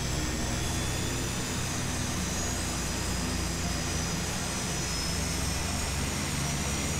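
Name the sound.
Carenado S360 twin aircraft engines running, flight simulator video game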